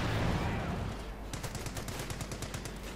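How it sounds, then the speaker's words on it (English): Rapid bursts of machine gun fire from a World War II battle in the video game Company of Heroes 2, a steady rattling stream of cracks beginning after a second of dense background noise and continuing loud to the end. "Firing cracks from machine guns, whole machine guns, plus the main gun here"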